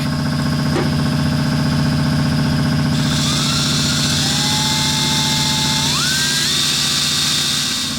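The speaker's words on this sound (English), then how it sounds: "Got our hole drilled." A Matco step drill bit bores a hole in metal on a KTM motorcycle part. The drill gives a loud, steady high-pitched whine, and its pitch rises and shifts partway through.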